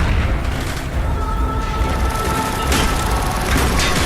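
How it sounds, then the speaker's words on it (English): Mortar fire in a Call of Duty Black Ops battle in the Arctic Circle booms loudly over constant rumbling combat noise, with sharp impacts near the end. "Firing mortar!"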